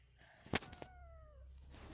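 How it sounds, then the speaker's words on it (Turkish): A kitten gives a single clear, fairly close meow with a falling pitch after a brief sharp knock, set against a low steady background hum. "kedinin yavrusu geldi"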